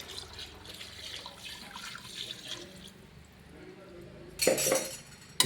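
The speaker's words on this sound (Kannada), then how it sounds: "ಸ್ವಲ್ಪ ನೀರು ಹಾಕೋತಾ ಇದ್ದೀನಿ" A trickle of water runs with faint clinks of a utensil as water is added to a pot of biryani, then a louder splashing pour near the end, close and fairly quiet.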